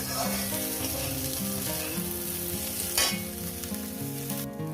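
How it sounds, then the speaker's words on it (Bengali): Small mourala fish fry with onion and coriander leaves in a pan, a continuous soft sizzle with occasional stirring, low in level, with a tonal hum running underneath. "ধনে পাতাটাকে দিয়ে আরও এক থেকে দেড় মিনিট এটাকে আমি ভেজে নিই"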